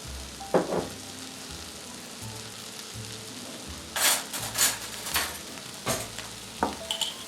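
Olive oil sizzling in a frying pan on a front stovetop burner, a steady soft crackle with a few sharper pops and metallic scrapes of utensils against the pan.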